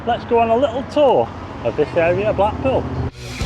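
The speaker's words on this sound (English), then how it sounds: "Please excuse the traffic noise" Road traffic on Lytham Road in Blackpool rumbles softly under someone talking nearby, with a passing vehicle swelling louder near the end.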